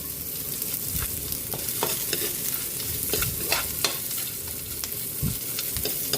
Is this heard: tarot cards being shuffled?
no